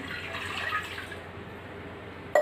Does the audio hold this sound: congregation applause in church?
no